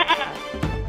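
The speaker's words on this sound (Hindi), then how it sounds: "बकरी बाहर जानी चाहती है।" A goat that wants to go outside gives a couple of loud, close bleats against a busy indoor background.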